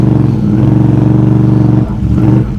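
A quad ATV engine revving in deep mud during an extreme mud tire test, pitting a System 3 XM310 against an EFX Motohavok: a loud, close, throbbing engine note holds steady, then dips and bogs briefly before picking back up.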